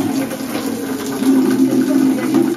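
Spring water in the Antharagange hills of Kolar pours in a loud, close, continuous gush with a steady splashing rumble that swells slightly midway, no talking over it.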